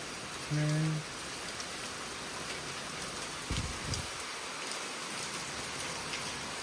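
Heavy rain begins to fall, a dense, steady hiss of drops across the whole moment, with a brief bump of handling noise early on and a low thud midway.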